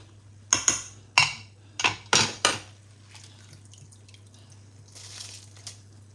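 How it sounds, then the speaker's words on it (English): Rice poured into a cooking pot for jollof rice makes a cluster of sharp clattering rattles, about six quick metallic hits in a row, followed by a faint, softer rustle near the end. "So now I'm gonna add my"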